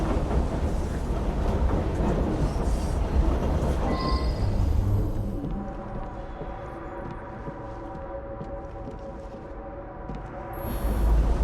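Train moving in Assassin's Creed Syndicate, set in Victorian London: a loud continuous rumble and rattle of the carriages that eases into a softer steady hum, with no talk over it.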